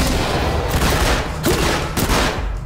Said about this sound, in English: Sound like a shotgun